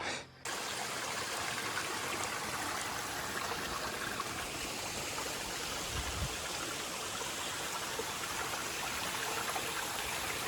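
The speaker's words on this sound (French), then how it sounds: "Première traversée de petits ruisseaux." Steady rushing of a small stream flowing nearby on a hiking trail in New Caledonia, a continuous broadband babble of water with no talking.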